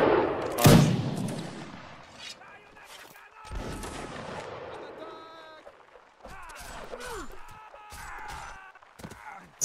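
Video game artillery booms out in several heavy blasts, one loud near shot early on and further rumbling reports spread unevenly across the stretch. Voices and game sounds come in between the blasts.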